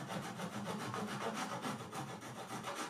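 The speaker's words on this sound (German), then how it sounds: "Und dann fange ich hier mit der Säge und säge die ganz einfach." A hand saw rasps steadily through wood in quick, even back-and-forth strokes, close and continuous, with no talking.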